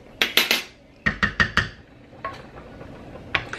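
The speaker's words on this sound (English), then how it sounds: "I'm just going to go ahead and stir my pasta again" Pasta being stirred in a metal pot, heard as bursts of sharp clanking taps from the spoon against the pot in quick clusters, close by, with quiet gaps between.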